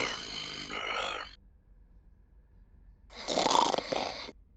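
A human voice imitates a huge lion creature snoring, giving two drawn-out rasping breaths, one in and one out, separated by a short silence, the second louder and rougher than the first.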